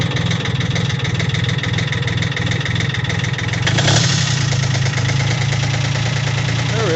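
A 1980 Kubota diesel engine with glow plugs cranks and runs, a loud, close, steady knocking chug that roughens and surges briefly midway, then settles into an even idle.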